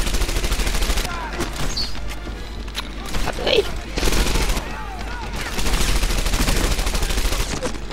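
Rapid gunfire in the World War II shooter game Medal of Honor Airborne: loud, dense bursts of rifle and machine-gun shots with brief lulls and impact crashes, and a faint voice briefly under the shooting.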